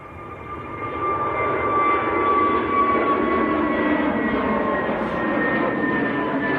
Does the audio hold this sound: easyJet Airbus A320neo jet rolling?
yes